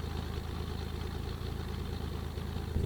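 A SIAI Marchetti aircraft engine idles in the X-Plane 12 flight simulator, a steady low droning rumble that holds even and moderately quiet throughout, with no voices over it.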